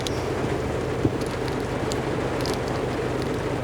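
Steady rain hisses continuously with a low rumbling background and occasional faint drips, constant in level throughout.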